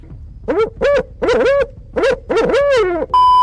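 Loud owl hoots repeat five times in close succession with harmonic, wavering tones, then a steady electronic tone closes it.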